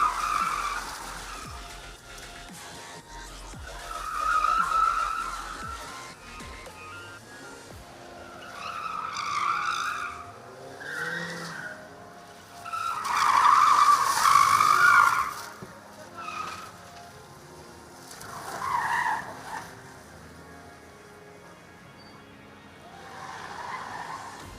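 A race car at a single-driver gymkhana timing competition skids through an obstacle course, its tires squealing in several loud, drawn-out bursts separated by engine revving and quieter gaps.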